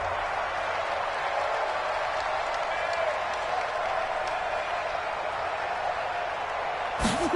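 A stadium crowd in a New Orleans football video game roars in a steady, dense wash of cheering and applause throughout, with a brief louder burst at the end.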